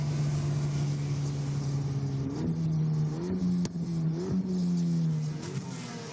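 F3 race cars in the 2025 Hungarian Grand Prix sprint race accelerating, a loud steady engine drone that rises in pitch in several short stepped surges, like gear changes, with no talk over it.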